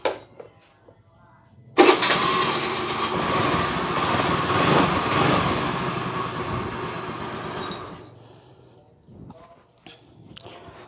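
A motorcycle with a faulty electric starter button cranks and fires up, running loudly and steadily for several seconds close by before cutting off, with faint clicks and handling noises before and after.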